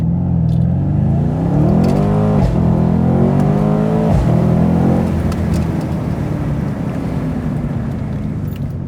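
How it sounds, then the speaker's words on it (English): A 2019 Mercedes-AMG C63 S at full throttle roars loudly from inside the cabin with the windows cracked, its engine pitch sweeping upward through gear changes over steady wind and road rush. "let's go ahead and floor it and see."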